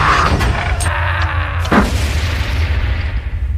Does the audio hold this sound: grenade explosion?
yes